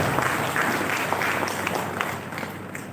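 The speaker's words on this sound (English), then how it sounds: "I think we need to give him a great clap." An audience at a Jubilee Mission Medical College event claps for an orator just after his speech. The applause is sustained and fairly loud, a thick wash of many hands that fades gently near the close.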